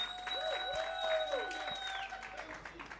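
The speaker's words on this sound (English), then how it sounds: "Please give yourselves a round of applause." Workshop attendees at a networking event applaud themselves, a crowd clapping with some voices and cheers mixed in over a steady tonal hum, tapering off at the end.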